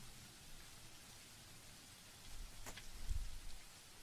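Heavy rain in a visual novel game falls in fast, steady sheets, a dense, continuous patter of drops that swells louder in the second half, with no voices.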